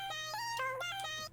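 Dry, high-pitched vocal chops with no effects, a short run of bright sung syllables stepping between a few pitches over a low steady hum, then cutting off abruptly.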